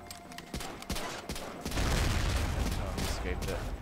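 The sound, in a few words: grenade thrown and exploding in an Xbox shooter video game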